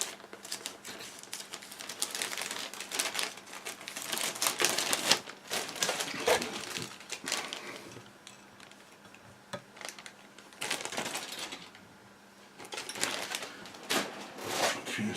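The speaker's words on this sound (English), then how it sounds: "I shall pop that one back in the bag" A plastic bag rustles as a small plastic part from a HobbyBoss 1/35 Leopard 2A6M model kit is slipped back inside: faint, intermittent crinkling and light clicking in short bursts, close by and quiet.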